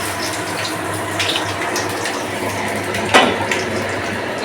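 Liquid pours steadily into a pot of mixed vegetables tempered with chilli and panch phoron, a continuous watery rush with one brief splashy burst partway through.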